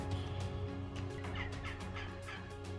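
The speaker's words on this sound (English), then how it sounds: "Here are all 6 roosters that I had in the run." Domestic fowl from a backyard flock of roosters in a run give repeated gobbling, clucking calls, several distinct bursts over a steady low background hum, fairly close and moderately loud with no talking.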